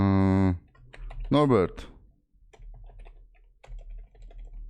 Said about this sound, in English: type in here Norbert